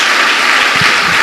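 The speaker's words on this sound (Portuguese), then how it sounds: "Dê uma salva de palmas ao Senhor." Church congregation applauding during a sermon, a brief, dense wash of clapping that stays steady and fairly loud for just over a second.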